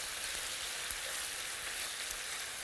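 Chicken pieces sizzle steadily in a hot pan for a chicken stroganoff, a soft, even frying hiss that stays constant throughout, fairly quiet, with no voices.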